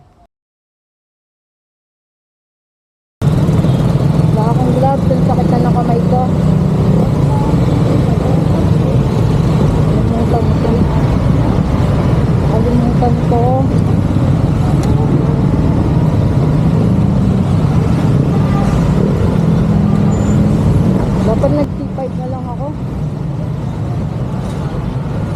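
Dense evening road traffic, a steady broadband rumble of cars and buses, loud and continuous, with a person talking over it; the sound begins after a few seconds of silence.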